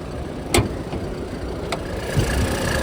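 A 2017 Ford EcoSport Titanium+ idles with a quiet, even engine hum, heard close by, with a couple of brief clicks over the steady murmur.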